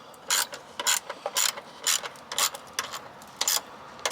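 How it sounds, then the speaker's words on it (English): A hose clamp is tightened onto the intake hose of an ESPAR S2 D2L diesel heater in a 2019 Sprinter van, giving a rapid series of close ratcheting clicks in uneven bursts, with no talk over it. "you just put a clamp on the end of the hose, like you do with everything else,"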